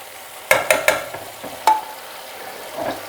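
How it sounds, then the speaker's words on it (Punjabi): Green moong dal is stirred into a hot ghee tempering for a Punjabi-style dal, giving a few quick scraping clatters and a soft sizzle that fade into a faint simmer. "ਹੁਣ ਇਸ ਸਟੇਜ ਦੇ ਉੱਤੇ ਆਪਾਂ ਦਾਲ ਇਹਦੇ ਵਿੱਚ ਪਾਵਾਂਗੇ ਚੰਗੀ ਤਰ੍ਹਾਂ ਦਾਲ ਨੂੰ ਹਿਲਾ ਲਓ"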